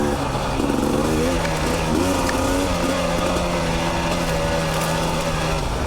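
A KTM 300 two-stroke dirt bike engine buzzes close by as the rider shifts between third and second gear, the pitch rising and dipping with each change under a steady rumble of wind and motion.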